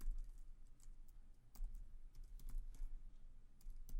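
Java code being typed on a computer keyboard, a quick, close stream of light key clicks with no talking.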